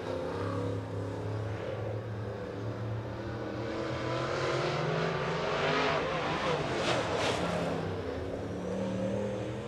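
Late model race cars roar around Boyd's Speedway as qualifying gets underway, engines droning and revving steadily, with a pass swelling louder near the middle before easing back.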